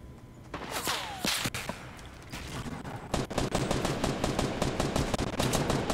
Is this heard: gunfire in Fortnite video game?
yes